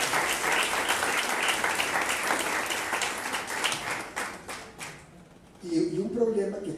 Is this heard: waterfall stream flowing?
no